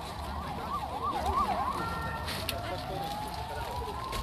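A fire engine siren rises and falls a few times, then settles into a steady rising tone, heard at a distance under chatter and background noise at a flea market.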